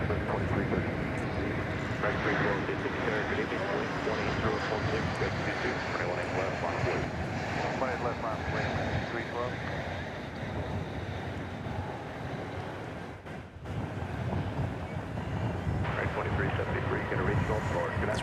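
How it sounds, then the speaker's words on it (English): An American Airlines Airbus A321 jet airliner arriving at DFW Airport produces a broad, steady roar mixed with wind buffeting, while a person talks over it throughout. "This is American 2769. It's an Airbus A321 arriving from Seattle."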